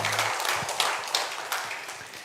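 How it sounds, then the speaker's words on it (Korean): A church congregation applauds in a dense patter of many hands that slowly tapers off, heard fairly close with no talking over it. "하나님께 영광의 박수 올려드리겠습니다"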